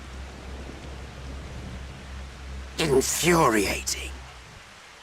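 A steady, soft hiss of rain falls in a Final Fantasy XIV game scene, continuous and even. A voice briefly speaks over it partway through.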